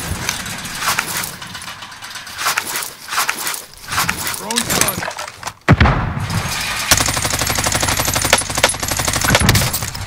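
Rapid automatic gunfire and sharp single shots from the game Call of Duty Modern Warfare, loud and near, in dense bursts with a sudden blast partway through, while a player talks over the action.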